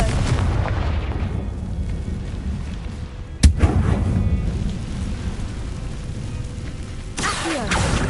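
Confringo fire spell explosion in Hogwarts Legacy, one sharp loud blast standing out against a steady rumbling game backdrop, followed by lingering ambience and a later swelling whoosh.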